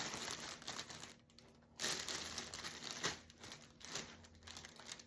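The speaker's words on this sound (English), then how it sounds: "this is really a crinkling fabric on this ribbon" Crinkly ribbon fabric rustles and crackles up close while being handled for a wicker gift basket bow, with bursts of crumpling sound that swell and fade over a few seconds and no voices.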